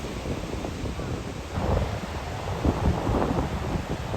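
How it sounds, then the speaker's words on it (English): Steady wind buffets the microphone at the Kamakura seaside in Japan, a continuous broadband roar with low rumbling gusts that swell louder after the first second and a half, with no other sounds standing out. "It is windy"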